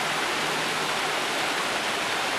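Brook water runs along a short public-access stretch of a park, a steady, even rush of flowing water with no change in level, fairly soft and unbroken, with no voices or other sounds.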